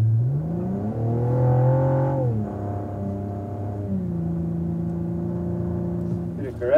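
A 2016 Cadillac ATS-V accelerates hard around Circuit of The Americas in Austin, Texas, its engine note climbing steadily through the gears with a brief shift dip, loud and close throughout, ending on a rising rev.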